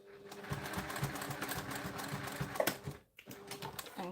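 A sewing machine runs in a steady rapid stitching burst while basting a flex-frame sunglasses pouch, pausing briefly near the end before a few more stitches, quiet and close.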